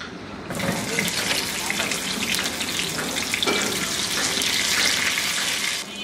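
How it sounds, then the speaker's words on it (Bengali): Pointed gourd frying in mustard oil on a stovetop, a continuous loud hissing sizzle that swells after a brief quiet start and holds steady before cutting off near the end. "আমি এখন চুলায় 4 টেবিল চামচ সরিষার তেল দিয়ে এর মধ্যে পটলগুলো দিয়ে একটু ভেজে নিব।"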